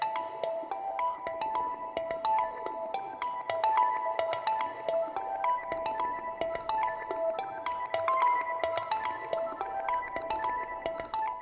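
Mallet percussion samples from the free Augmented Mallets Play plugin, processed through two instances of Transit 2 with widening and reverb, ring out in a steady stream of bright, pinging tuned notes with long, washy tails.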